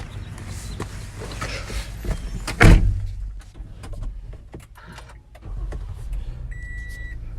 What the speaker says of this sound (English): Power windows, or power doors.